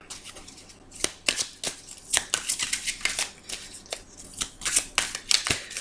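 A deck of tarot cards is cut and shuffled close by, in quick irregular snaps and riffling bursts that repeat throughout, crisp and fairly loud with no talk.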